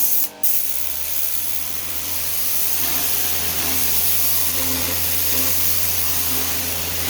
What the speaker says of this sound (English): Rotating dirt blaster tied in with 1500 psi machine,